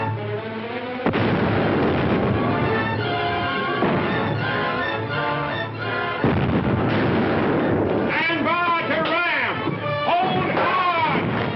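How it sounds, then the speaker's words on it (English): A ship's cannon broadside roars in continuous heavy booms and crashes, loud and dense throughout, with voices shouting over the battle noise in the middle and at the end. "We'll give them a broadside."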